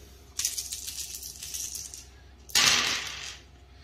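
Dice clatter and tumble across a hard surface during a Dungeon Saga board game, in two bursts, a longer rattling roll followed by a shorter, louder one, with no talking.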